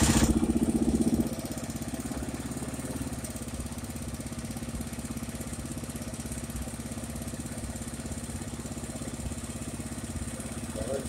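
A Honda Foreman 500 ATV engine idles steadily close by, a loud rapid throbbing putter that holds an even rhythm for the whole stretch after a brief louder rev at the start.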